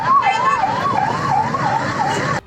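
An ambulance siren wails in a steady rising-and-falling pattern at the scene of a firecracker blast, loud and fairly close, sounding alone before cutting off abruptly near the end.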